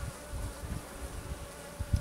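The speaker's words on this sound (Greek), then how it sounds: "Κόκκινες μέλισσες." Honeybees hum steadily during a spring hive inspection of a frame of red bees, a close dense drone with small bumps from handling.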